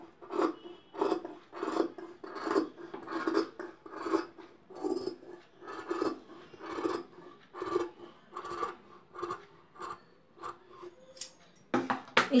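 Scissors snip fabric at the center of a collar neckline during garment sewing, giving a steady run of crisp, rhythmic cuts about every half second, close and clear with no voices.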